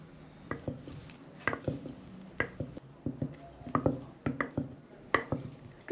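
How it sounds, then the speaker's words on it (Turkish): Long wooden spoon stirring a flour mixture, giving a steady series of soft knocks and scrapes against the pot at an irregular, roughly even pace, close and fairly quiet, with no talk. "Ağaç kaşık uzun olduğu için karıştırması kolay oluyor."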